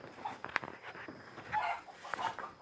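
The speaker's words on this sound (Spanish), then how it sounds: "Los gallitos, gallos finos." Fine gamecock roosters in a rural home in the Pacific lowland jungle of Colombia cluck and call in short bursts, moderately close, with faint background ambience.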